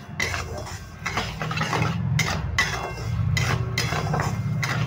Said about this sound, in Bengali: চিনিটা দিয়ে আমি একটু নেড়ে নিচ্ছি। ঘিয়ের সঙ্গে মিশিয়ে নিলাম চিনিটাকে।